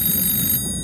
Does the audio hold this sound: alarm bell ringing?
yes